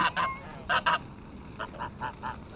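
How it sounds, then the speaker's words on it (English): Several loud goose honks in quick pairs, followed by a run of softer, more distant honks at a steady rhythm. "There's geese everywhere."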